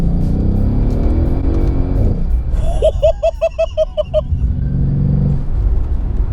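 A Mercedes S63 AMG coupe with about 580 horsepower accelerates hard in second gear. A rising engine roar is briefly broken by a rapid burst of rhythmic pulses, then settles back into a loud, deep rumble.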